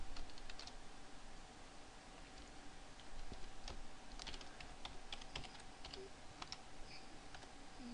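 Rapid, uneven keyboard typing on a computer while setting up a WampServer development server, with sharp clicks scattered over about eight seconds against a steady background hum.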